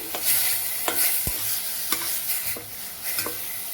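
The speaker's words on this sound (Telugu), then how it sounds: "ఆనియన్ పేస్ట్, ఆనియన్ పేస్ట్ కొంచెం బ్రౌన్ అవ్వాలి." Onion paste fries in a pan, a steady close sizzle broken by repeated scraping strokes of a spoon stirring it.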